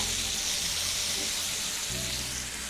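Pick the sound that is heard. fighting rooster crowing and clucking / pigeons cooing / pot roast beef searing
pot roast beef searing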